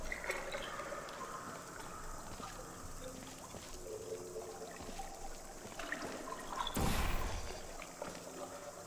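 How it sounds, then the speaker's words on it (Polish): Soft, continuous trickling and streaming water in the puzzle game Portal 2, fairly faint under a mechanical hum, with a brief louder splash-like surge near the end. "Patrzcie, jaka woda."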